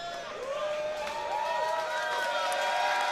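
A large crowd cheers and whoops inside a destructive robot fighting arena, a steady, loud roar of voices with rising calls and shouts layered throughout.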